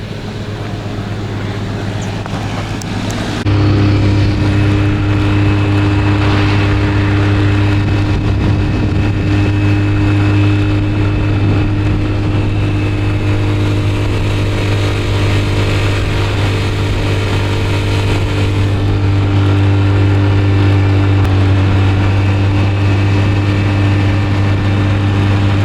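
Motor scooters ride through Peru's Sacred Valley with a steady, loud engine drone close by, mixed with rushing wind, holding a constant pitch throughout.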